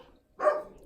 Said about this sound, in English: I can never guarantee that they won't bark. Because that's what dogs do.